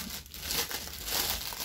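Crinkly plastic packaging of a Dove gift bag is pulled open up close, giving a burst of crackling and rustling that rises and falls over a couple of seconds.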